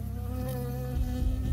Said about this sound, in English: Stung by a bee.